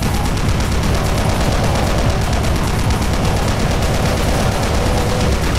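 Chaingunner demons firing in the video game Doom: dense, continuous rapid-fire gunfire that stays loud and steady throughout, with no pauses and no voices.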